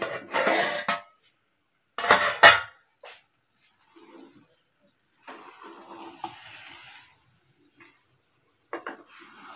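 A pot lid is lifted off cooking semiya (vermicelli) for dum ka semiya, with a sharp metallic clank, short rattles and scraping handling noises between near-silent gaps, close and clear.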